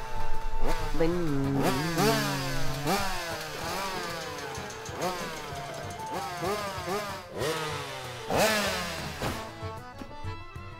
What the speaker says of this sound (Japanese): ドルドルバルルと音がするオートバイでございます